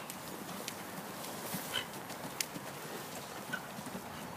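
A horse cantering around a turn in a riding lesson, its hooves clip-clopping in a steady rhythm at a moderate distance over soft outdoor background noise.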